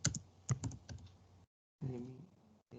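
Typing on a computer keyboard during an online lecture: quick bursts of soft key clicks, a brief silent gap, then more tapping, faint and close.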